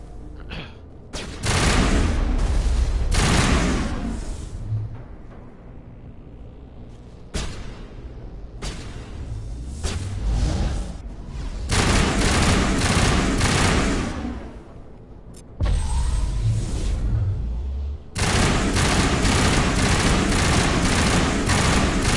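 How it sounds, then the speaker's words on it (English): Gunfire from Mass Effect comes in long, loud, sustained bursts of rapid shots through a floor, broken by short quieter gaps between the volleys. "That's why we're shooting through the floor."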